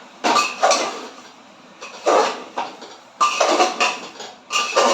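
Chicken pieces and vegetables are sautéed in hot oil in a pot with repeated loud, rasping stirring scrapes that come in bursts, separated by short quieter gaps.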